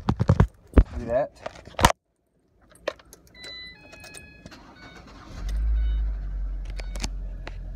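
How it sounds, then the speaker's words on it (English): A car's ignition being switched on and the engine starting up, preceded by jangling keys and handling clicks, then a low, steady engine rumble settling in toward the end. "Car's on."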